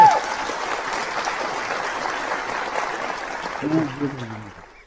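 Studio audience applause during a 2018 World Chess Championship broadcast, steady clapping spread through the room for several seconds, moderately loud and slowly fading, with a voice speaking briefly near the end.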